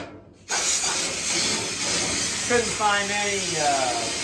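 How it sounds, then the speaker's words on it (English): Compressed air blows out a maple sap pan, a loud steady hiss that starts abruptly after a brief silence and continues, with a voice speaking briefly over it. "we'll just blow it out with compressed air as best we can"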